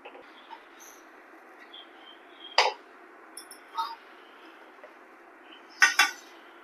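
A cheese uttapam is lifted out of a pan with a few sharp metallic clinks and scrapes of the spatula against the cookware, spaced apart over a quiet kitchen background.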